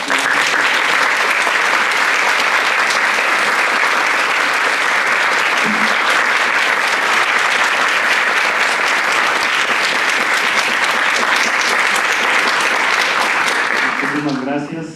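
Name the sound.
audience applause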